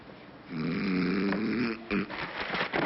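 A long, rumbling snore drawn in and out, close and fairly loud, followed by a shorter snorting breath.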